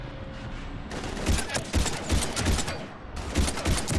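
Bursts of rapid gunfire in the Mass Effect 3 video game come in repeated loud volleys with heavy low thumps, densest in the middle and near the end, amid a busy battle soundscape.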